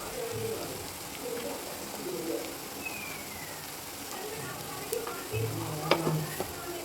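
Onions and chillies sizzle softly in a pan on a home stove, turmeric added, a faint continuous frying hiss with occasional stirring scrapes and a few clinks near the end.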